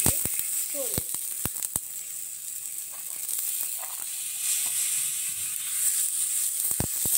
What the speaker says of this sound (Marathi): आता याच्यावर भाजणार मी सोले।